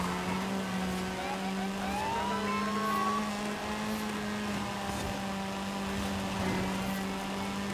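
A GT500 race car engine in a racing video game drones steadily at high revs, with another engine whining past and faint tire and track noise underneath.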